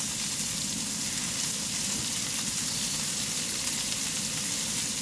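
Something fries in a pan of oil and butter, giving a soft, steady sizzle with faint crackles that holds evenly at moderate distance for the whole stretch.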